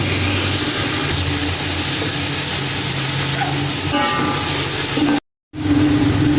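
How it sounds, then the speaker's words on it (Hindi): Chicken liver (kaleji) frying in hot oil on high flame, a steady loud sizzling hiss that fills the whole stretch, with a brief cutout near the end. "इतने ही गर्म ऑयल में आपने जो है इसको डालना है और हाई फ्लेम पे इसको पकाना है।"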